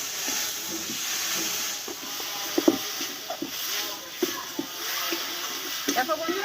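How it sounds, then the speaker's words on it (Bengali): Spice masala with salt and turmeric sautés in a pan for a banana flower fritter dish, a steady sizzling hiss broken by scattered clinks from stirring. "মশলাটা সব একসঙ্গে ভালোভাবে কষে নেবো আমি"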